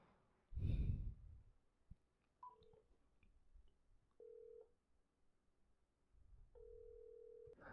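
A phone call goes out from an office line. Faint dialing beeps are followed by a few steady, spaced ring tones at low volume, broken by a sigh and small handling noises.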